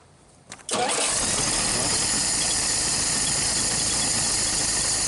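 A 1961 Dodge Lancer engine cranks briefly and catches, then settles into a loud, steady idle close by with a constant rumble and hiss filling the rest of the clip.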